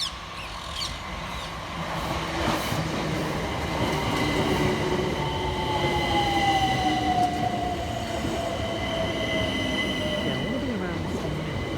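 Southeastern Class 376 electric trains, units 376015 and 376001, run on the Hayes line toward London Charing Cross, a steady rumbling roll with a rising wheel squeal and hum throughout, no voices.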